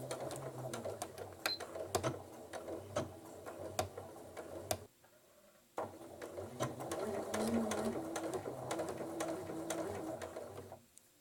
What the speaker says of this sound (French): il vous suffit de faire 2 ou 3 points en avant, puis en arrière, et vous repartez avec la couture en avant